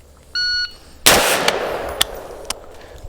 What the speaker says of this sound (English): We're going to do some a little bit faster one shot drills with the shot timer.